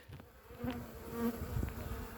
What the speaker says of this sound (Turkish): arı uçuyor kaçıyor demeye gerek yok arkadaşlar